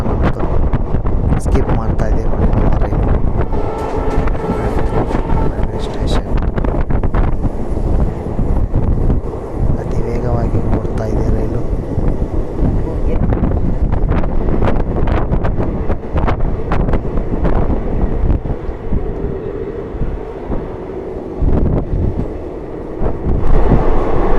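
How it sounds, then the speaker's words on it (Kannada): The Vijayapur–Mangaluru Express (07377) runs at high speed through Ibrahimpur station, heard from on board as a loud, continuous rumble of wheels and carriages with heavy wind buffeting throughout. "ಹೈ ಸ್ಪೀಡಿಂದ ನಮ್ಮ ಟ್ರೈನು ಇಬ್ರಾಹಿಂಪುರ ಸ್ಟೇಷನನ್ನು ಸ್ಕಿಪ್ ಮಾಡ್ತಾ ಇದೆ ನೋಡಿ, ಯಾವ ಥರ ವೇಗವಾಗಿ ಹೋಗ್ತಾ ಇದೆ."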